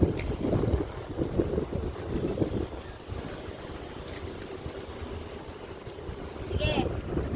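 Wind blows outdoors and buffets the microphone with low, rumbling gusts that are heavier at the start and again near the end, with faint voices underneath.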